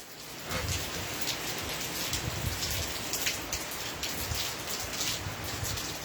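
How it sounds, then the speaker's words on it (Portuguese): Heavy rain pouring onto a rooftop terrace, a dense continuous hiss of drops hitting the surface, steady and close throughout with no pauses. "É chuva, é chuva."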